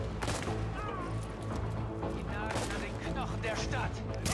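SMG fire from The Division plays as rapid bursts of gunfire mixed with other shots and game effects, while someone talks over the noise.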